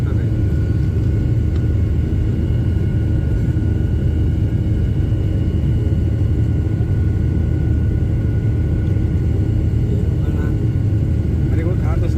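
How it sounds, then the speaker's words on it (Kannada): Steady, loud low-frequency rumble inside an airplane cabin just after takeoff, a continuous engine and airflow drone filling the whole stretch with no breaks, heard close and even throughout. "ಹೋಯ್ತು ಟೇಕ್ ಆಫ್ ಆಯ್ತು"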